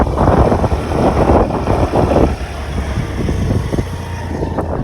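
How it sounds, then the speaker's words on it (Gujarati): A Honda Activa scooter rides along a road with a steady, loud engine drone and rushing wind noise that grows denser at first, then eases to a rougher, lower rumble. "મારો ભાઈ એક્ટિવા ચલાવે."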